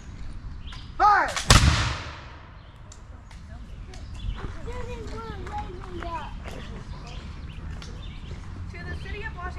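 A historical firing demonstration volley, read out at a Declaration of Independence event, booms once loudly at close range, then fades into a rumbling echo, followed by crowd murmur and a voice speaking.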